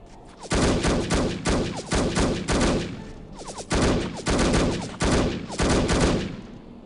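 Enemy sniper gunfire in the No One Lives Forever video game, repeated loud bursts of rapid shots arriving in four or five volleys with brief gaps between them, close and dominant.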